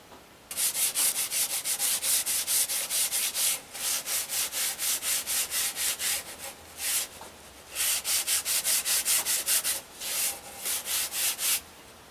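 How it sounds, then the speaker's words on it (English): Rhythmic scratchy strokes of sandpaper rubbing hard clay, fast back-and-forth bursts in several runs separated by short pauses, close and clear. "I've just finished doing the sanding."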